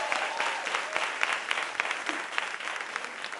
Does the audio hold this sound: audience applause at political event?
yes